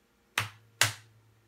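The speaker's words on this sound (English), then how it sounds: "The rhythm of a pair of eight notes sounds like this." Two short sharp claps or snaps spaced evenly about half a second apart, marking a pair of eighth notes, close and fairly quiet in otherwise silent surroundings.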